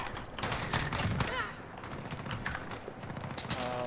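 Rapid bursts of gunfire crackle during a video game match, dense and fairly close, with voices talking over the shots throughout.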